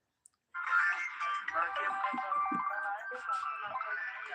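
A melodic phone ringtone starts after a brief click and plays continuously at moderate volume, a looping electronic tune with no talking.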